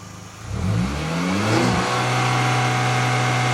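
A car engine is revved to about 4000 rpm during a roadside police noise check, climbing quickly over a second or so and then holding a loud, steady, close-up drone with no talk over it.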